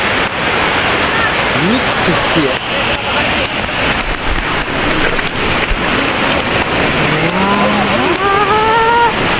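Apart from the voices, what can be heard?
flowing water at Kalu waterfall, Adrai jungle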